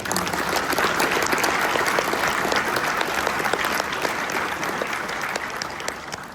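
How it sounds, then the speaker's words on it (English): A large crowd at an awards gala claps loudly and continuously, a dense wash of applause that holds steady and fades slightly toward the end. "So let's give them all a round of applause."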